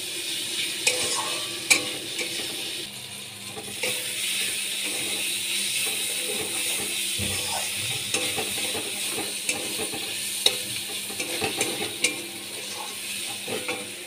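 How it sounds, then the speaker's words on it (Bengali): Prawns sautéing with spices in a pan, a steady sizzle and frying hiss carrying through with occasional stirring scrapes and clinks, no talking. "চিংড়ি মাছ দিয়েও আমি ভালো করে কষিয়ে নিচ্ছি"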